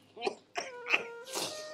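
An old man coughs in three or four rough, hacking bursts, close and fairly loud, each separated by a short pause.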